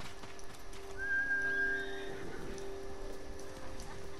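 A horse in the video game Ghost of Tsushima lets out a clear, drawn-out neigh, with soft hoofbeats and a faint whistle-like tone underneath, set against a low ambient game backdrop.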